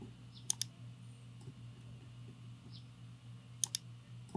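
Sharp mouse clicks at a computer while working in 3ds Max, a pair near the start and another pair near the end with a few fainter taps between, over a steady low hum.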